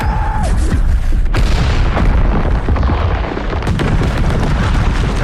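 A ship is blown up in the war film The Tomorrow War. The explosion is a loud, heavy boom that rolls into continuous roaring rumble and debris crackle throughout.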